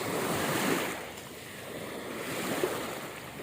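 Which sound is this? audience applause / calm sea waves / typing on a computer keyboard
calm sea waves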